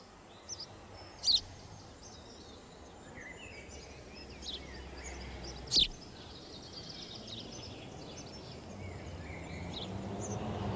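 House sparrows in St James's Park, London, give two sharp, fairly close chirps and a few fainter distant calls over a steady low city hum.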